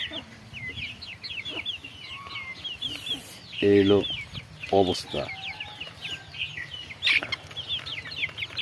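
Chickens cluck repeatedly outdoors on a farm where pigeons and cattle are also kept, with rooster-like calls and bird chirps throughout and a few louder bursts, while someone speaks briefly.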